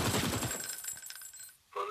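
Rapid automatic gunfire from the Android CS GO mod of CS 1.6 on the Cache map, loud dense bursts up front that thin out and fade, followed by a brief tonal in-game cue at the end.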